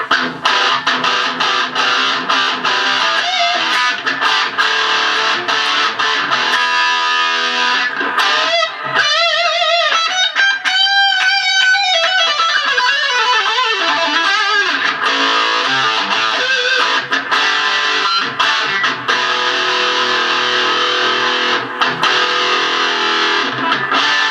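Distorted electric guitar played direct through a cabinet simulator into the PA with no speaker cabinet, with dense chords, a bending lead passage in the middle and continuous loud, buzzy tone throughout.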